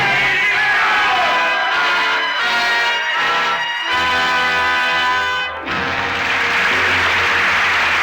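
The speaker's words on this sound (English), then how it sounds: "the roar of the crowd fades into the silence of 150 years ago" A roaring crowd in a radio drama of A Tale of Two Cities, loud yelling and shouting voices with swelling tones that drop away sharply near the end before a softer wash of crowd noise returns.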